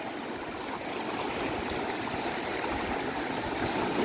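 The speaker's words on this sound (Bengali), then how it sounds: "এখন এমন স্রোত আসতেছে যাবো ইম্পসিবল" Strong sea current and waves wash steadily against the shore at Saint Martin's island, a dense, continuous rushing roar with no voices.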